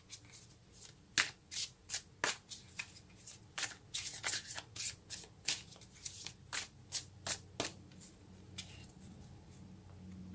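Tarot cards are shuffled by hand in a quiet room, making a rapid series of about twenty crisp riffling flicks and snaps, close and fairly soft, with no talking.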